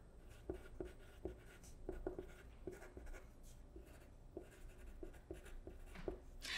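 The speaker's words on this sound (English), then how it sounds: "I can take my pencil and mark that the Ozobot would not read this" Pencil marks on paper, drawn as a check against color codes on a curved line, come as a series of light, close taps and short scratches spaced irregularly, quiet and with no voice over them.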